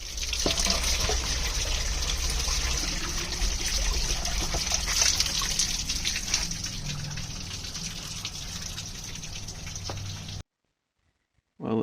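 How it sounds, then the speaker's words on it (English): Fresh spring water runs from its source near Moab, Utah, a steady, close gurgling trickle that holds constant for about ten seconds before cutting off abruptly into silence. "I made sure to get some fresh spring water straight from the source."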